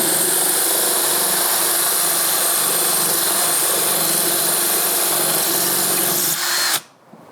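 A power drill bores a hole through a pot kept wet with water, giving a loud, steady, close grinding whine that runs without a break and cuts off abruptly near the end.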